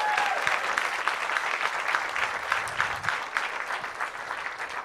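A comedy club crowd applauds the other comics on the bill, a warm, continuous round of clapping at moderate level lasting several seconds, with a few louder claps poking through.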